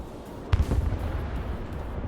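A HARM missile launches in the video game Broken Arrow with a single sudden boom followed by a rumbling rush that fades into a low, steady roar, fairly distant and moderately loud.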